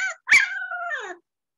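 A small pet dog gives one short, close bark that trails into a drawn-out whining yelp, loud and alone with no talking.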